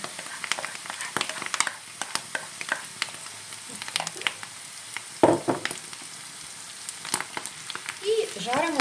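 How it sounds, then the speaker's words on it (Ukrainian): Morel mushrooms and onion fry together in a pan, a soft steady sizzle with occasional stirring scrapes and clicks, close and moderately quiet, with no talking. "І грибочки зажаряться ще, і цибулька піджариться."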